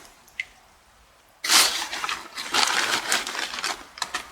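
After a quiet start with one small drip, wet sloshing and squelching begins abruptly, with irregular splashes as a garden bio-fertilizer mixture is stirred in a two-bucket container of water.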